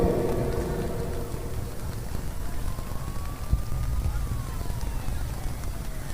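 Rain falls steadily as a soft broadband hiss throughout, with a faint low rumble and a thin tone rising and falling in the middle.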